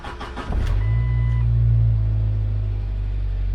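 A Jeep Wrangler TJ with a no-crank, no-start fault is cranked over. A brief whirring crank is followed by a loud, steady low engine rumble close by that lasts to the end.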